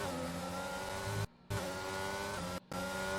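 McLaren Formula 1 car in a racing game, engine screaming at high revs as it accelerates down the straight, a loud continuous drone with two brief cuts to near-silence.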